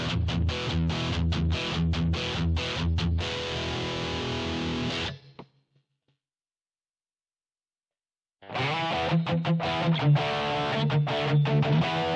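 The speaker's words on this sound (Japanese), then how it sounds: "お好みの歪みの音を選んでいきましょ" Electric guitar played through the distortion of a BOSS GT-1 multi-effects unit, with rhythmic driven chords and notes for about five seconds, then a silent pause, then more distorted strumming.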